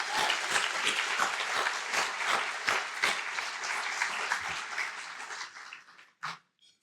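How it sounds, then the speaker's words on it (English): An audience at a college scholarship banquet applauds with steady, dense clapping that holds for several seconds, then thins out and fades, ending with a brief thump. "a round of applause and thanks"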